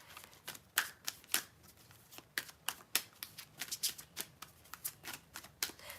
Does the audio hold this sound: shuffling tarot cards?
yes